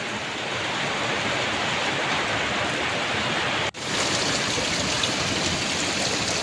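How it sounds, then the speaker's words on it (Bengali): Storm water from heavy rain rushes into a low-lying kitchen, a steady dense hiss of flowing water throughout, broken by one brief dropout midway, with no voices. "সব জল ঘরে ঢুকছে, একদম জল ঢুকছে দেখো"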